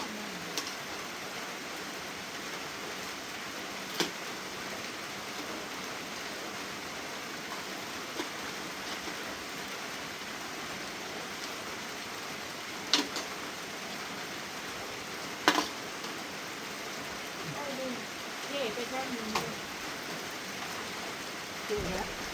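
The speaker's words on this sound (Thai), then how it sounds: "ฝนตกหนัก" Heavy rain pours in a steady, dense hiss. It stays loud and even throughout, with a few brief louder drips and faint background voices now and then.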